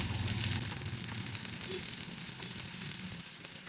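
Ginger, garlic and onion fry in hot oil in a pan, giving a close, steady sizzle that stays even throughout with no voices.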